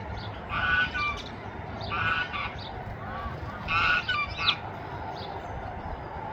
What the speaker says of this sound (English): What's her geese yelling about?